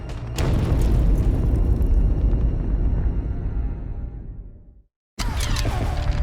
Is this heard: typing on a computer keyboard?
no